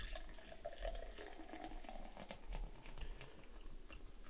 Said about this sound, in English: Go ahead and get a pour.